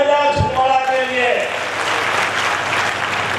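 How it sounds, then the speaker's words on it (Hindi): Crowd applause at a public event in Chhindwara follows a brief tail of a voice on a loudspeaker, then a broad wash of clapping that swells and holds to the end. "जोरदार तालियां बजाओ छिंदवाड़ा के लिए"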